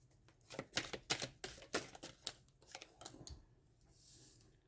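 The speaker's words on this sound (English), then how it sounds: "these ones I can't really shuffle very well because there's a huge amount of cards" A large deck of tarot cards is shuffled by hand in a rapid run of crisp riffling slaps that thin out toward the end, quiet and close.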